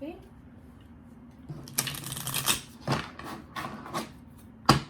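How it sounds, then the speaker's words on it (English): Cards being shuffled in a few quick riffling bursts, close and crisp, with faint background noise between the shuffles. "one last shuffle."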